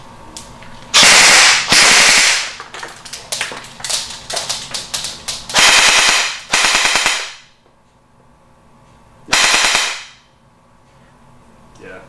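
Rapid bursts of mechanical full-auto fire from an AGM M4 CQB airsoft electric rifle, several long strings of fast clicking shots separated by pauses, loud and close.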